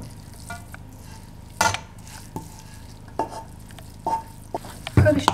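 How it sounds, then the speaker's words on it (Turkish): Cold carrots stirred into a yogurt salad with grated garlic and salt, giving soft wet squishing and scraping strokes that come in irregular bursts, close and moderately loud over a quiet background. "Karıştırıyorum."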